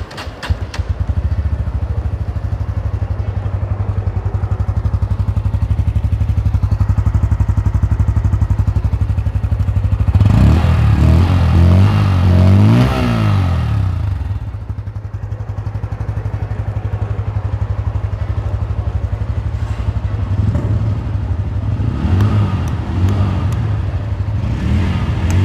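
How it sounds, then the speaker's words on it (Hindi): A Bajaj Pulsar N160 motorcycle engine idles with a steady throb, then revs sharply a few times, the exhaust note rising and falling before settling back to idle. "अभी एक बार आपको एग्जॉस्ट नोट भी सुना देते"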